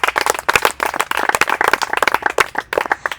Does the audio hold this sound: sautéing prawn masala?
no